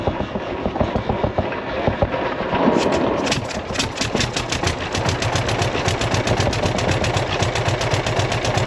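Tractor engine running steadily on an onion and cole crop farm with rocky ground, a continuous loud mechanical drone with a rapid rhythmic pulse that grows harsher and more rattly partway through.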